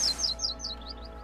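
Bird chirping in South Park: The Stick of Truth, a quick series of high, bright tweets that fade over about a second.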